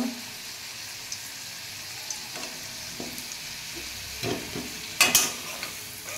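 Potato pieces frying in hot oil, a continuous soft sizzle with occasional spatters and a few louder crackling pops and stirring knocks toward the end, no speech.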